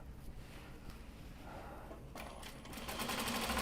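A sewing machine stitches a garment side seam, its motor whirring quietly and then speeding up into a louder, steady run near the end.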